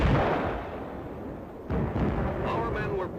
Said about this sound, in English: Watch this direct hit by a Jap shell.